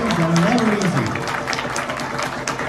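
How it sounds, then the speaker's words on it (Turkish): Sustained applause from an audience at the 2022 Istanbul Open awarding ceremony as trophies are raised, a steady dense patter of clapping throughout with a voice speaking briefly over it at the start. "Give them a big hand."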